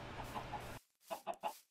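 Minecraft chickens cluck in a short burst of three quick clucks, heard clearly after a brief stretch of game background noise.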